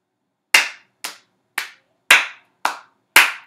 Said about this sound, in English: there is one Suzuki rhythm left to clap